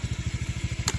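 A Honda Beat scooter engine putters steadily and close by, with quick even pulses of low thrum throughout and no talking.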